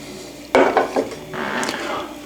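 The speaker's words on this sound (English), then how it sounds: "You'll know it's ready because as you spread it, it'll be sizzling." Butter and oil heat in a pan while being spread around, with a sudden scrape and clatter followed by a soft, steady sizzle up close.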